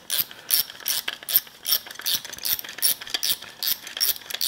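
A ratchet wrench clicks in quick bursts as it turns a 10 mm socket to tighten a fastener on a K100 truck, the sharp metallic pawl ticks repeating close by and alone.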